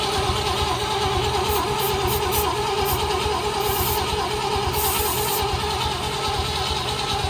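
A manually powered ignition coil setup on an ECTO project car engine cranks steadily without firing, a continuous loud churning drone throughout with no catch or change in rhythm.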